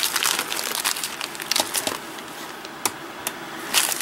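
A plastic bag packed full of glass beads is handled close up, with a steady crinkling rustle, scattered sharp crackles and small rattling shifts throughout.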